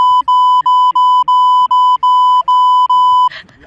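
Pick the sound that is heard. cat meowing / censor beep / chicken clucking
censor beep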